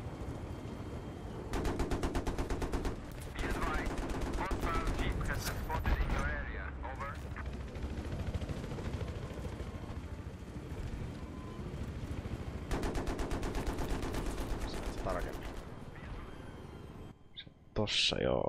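Long bursts of rapid machine gun fire from an attack helicopter in the video game Battlefield 3, loud and sustained with brief pauses, ending in a few sharp blasts.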